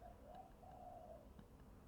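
A bird, most likely a pigeon or dove, coos just outside a room, a soft low throaty call repeated twice in a row over a steady background hum, faint and somewhat muffled.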